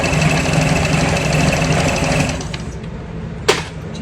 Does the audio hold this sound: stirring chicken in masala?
no